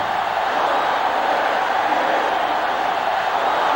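Stadium crowd in the NCAA Football 07 video game, a sustained dense roar of many voices at steady loudness, rising as fans get to their feet during a field goal attempt.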